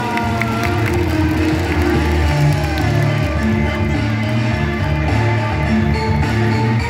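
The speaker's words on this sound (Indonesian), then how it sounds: "Tepuk tangan buat Fania" Crowd applause and cheering at a Heroes' Day school commemoration in Indonesia, a steady, dense wash of clapping and voices that holds loud and even for several seconds.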